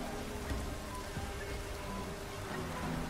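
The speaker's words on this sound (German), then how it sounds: "Oh, es regnet. Das hört sich cool an." Steady rain falling in the open world of The Witcher 3, a continuous even hiss of drops on surfaces with a low rumbling bed underneath, holding at a constant level throughout.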